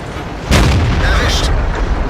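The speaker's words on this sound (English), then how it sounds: "He's still getting artillery dropping shells near him, but thankfully already hasn't hit him yet" Artillery shells land and burst near a tank in World of Tanks, one loud boom with a rumbling tail, and a voice talks over it.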